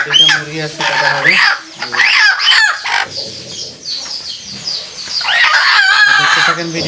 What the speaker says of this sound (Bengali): দুইটা মুরগি আছে, কাটা হবে।